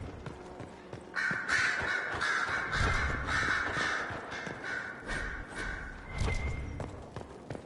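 Crows caw repeatedly in the video game Dragon Age Inquisition, a string of harsh calls with a sustained nasal tone, mixed with dull thumps and footstep-like clatter in the background.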